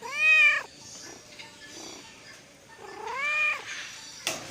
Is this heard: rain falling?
no